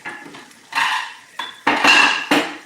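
Ceramic plates clatter and clink in several sharp bursts, close by, with brief pauses between the knocks.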